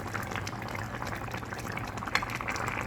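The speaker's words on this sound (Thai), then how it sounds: "เติมน้ำลงไปหน่อยหนึ่งนะครับ" Water pours into a cooking pot with a steady bubbling, gurgling rush, close and continuous for a few seconds, with a faint low hum underneath.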